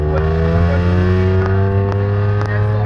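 Tuned Volkswagen Polo with a 1.2-litre TSI engine and Code 6 Stage 2 tuning, holding a loud, steady high rev close by, with a few sharp crackle-like pops breaking through the drone.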